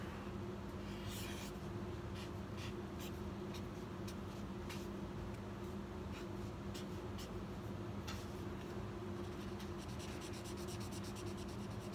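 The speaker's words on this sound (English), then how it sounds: "Paper here, so let's draw." Pencil or marker drawing on paper, soft scratchy strokes repeating in short bursts over a steady low background hum, fairly close and quiet with no talking.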